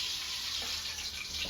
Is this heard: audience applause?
no